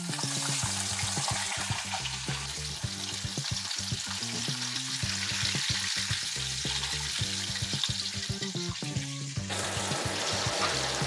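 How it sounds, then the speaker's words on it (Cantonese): Chicken pieces coated in egg and cornstarch deep-fry in hot oil, giving a continuous close crackle and sizzle with steady bubbling throughout, alongside some faint clattering and stirring. "落咗雞蛋同埋生粉去炸咧，佢好襟炸嘅"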